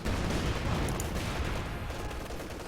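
240mm artillery shells land on a defensive area in Company of Heroes 2, a dense, continuous rumble of blasts and crackling impacts with no pause, loud throughout.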